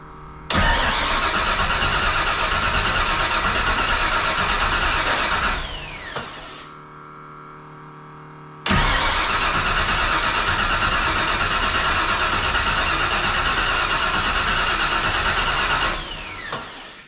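A Ford F100 with no ignition grinds loudly through two long cranking bursts, each lasting several seconds, separated by a brief pause; the engine never catches, and no one speaks.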